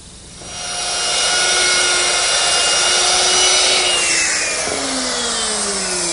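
A biscuit joiner cuts slots into a wooden miter joint for a secretary desk, a steady loud motor whine running the full length with the pitch dropping slightly as the blade bites in near the end.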